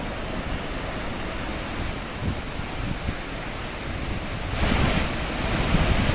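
Floodwater pours through the two opened gates of the Machagora dam after continuous heavy rain, a loud, steady, broadband roar of rushing water with wind buffeting, surging louder near the end.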